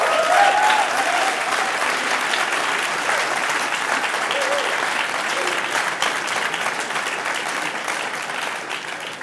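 An audience at a product presentation gives sustained applause, broad and steady clapping that slowly tapers toward the end, with a faint voice briefly audible near the start.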